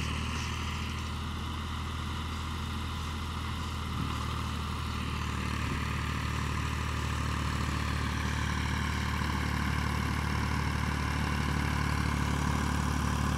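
A Ford 3600 tractor engine runs steadily at a low, rumbling idle throughout, loud and close with no breaks.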